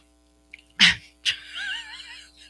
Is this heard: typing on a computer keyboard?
no